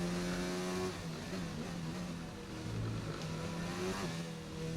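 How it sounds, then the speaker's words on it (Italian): Loud, steady engine drone with tonal revving that rises and falls, Formula 1 race cars roaring continuously at close range in the video game F1 2019. "Senti i rumori dei motori"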